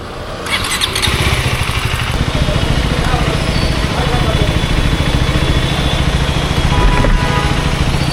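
A 2025 Gen 3 KTM Duke 390 engine starts and idles close by with a steady, throbbing mid-pitched rumble, while a person talks over it.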